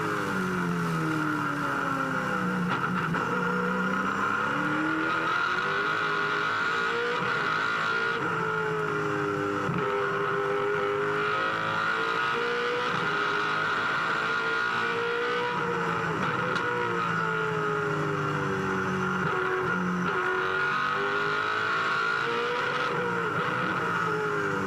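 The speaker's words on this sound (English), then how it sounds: "have a listen to the HRT car at full tilt" A 2003 HRT V8 Supercar race car at full tilt on a circuit, its engine a loud, continuous high-revving roar rising and falling through gear changes, heard from onboard with no talking.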